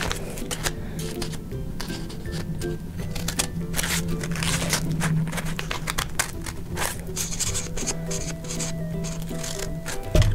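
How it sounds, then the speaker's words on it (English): Scissors cut the white part off a paper llama bookmark, giving a busy run of quick snips and paper rustles over a steady low hum, close to the microphone. "I'm going to cut that white part off so that it looks like a llama."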